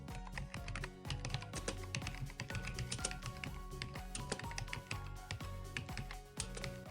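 Steady, rapid clatter of keys typed on a computer keyboard into a search bar, close and fairly loud, running continuously with dense irregular clicks and no voices.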